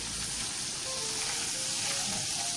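Flour stirred into rendered sausage fat for gravy produces a continuous, even sizzle at moderate volume, with faint stirring underneath and no pauses.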